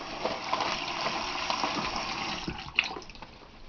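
Water runs steadily into a sink, a continuous close gush that keeps going the whole time and tapers off slightly at the end, with a few soft knocks and no speech.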